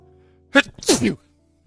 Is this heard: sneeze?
yes